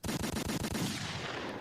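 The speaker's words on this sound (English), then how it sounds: "so many gunshots" Rapid burst of gunfire, about a dozen sharp shots in quick succession like a machine-gun sound effect, loud and close, trailing into a noisy wash of echo.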